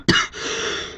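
A single sharp cough or throat clear, close and loud, followed by a brief breathy rasp trailing off.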